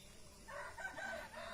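Chickens clucking and calling nearby, a few soft bursts over steady outdoor background noise, no talking.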